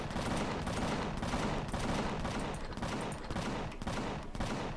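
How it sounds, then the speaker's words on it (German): Rapid, sustained gunfire from Empyrion Galactic Survival, a dense continuous barrage with repeating bursts at steady loudness and no pauses, playing alone without talk. "Was schießen die denn da?"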